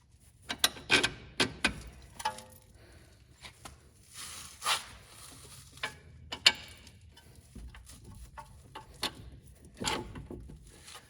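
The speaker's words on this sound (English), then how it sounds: "now we can go ahead and position our knuckle back up into here and put in our bolts" A hand ratchet clicks while strut knuckle bolts are threaded in on a Chevrolet Malibu front suspension, quiet irregular bursts of ticking and metallic clinks close up.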